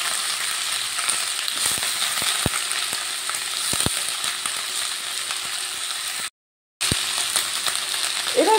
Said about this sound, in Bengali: পেঁয়াজকলিগুলো দিয়ে ভালো করে ভেজে নেব।